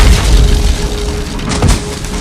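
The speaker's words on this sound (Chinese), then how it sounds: "不料炸弹的威力太大，竟把补给也炸得灰飞烟灭" A bomb detonates around a pile of supplies in The Hunger Games film, producing a loud, deep, rumbling roar that fills the whole stretch with dense noise and a brief swell partway through, with no voices.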